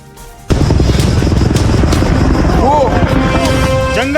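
Firefighting helicopters in flight over a forest fire: a sudden, very loud, close rotor beat with a rapid chopping rhythm and engine roar, a voice speaking over it.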